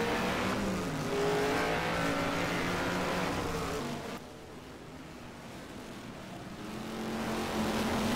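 A 1971 Can-Am race car engine revs hard in a racing game at Mid Ohio, a loud buzzing roar with rising pitch that drops away briefly into quieter rumble before climbing again.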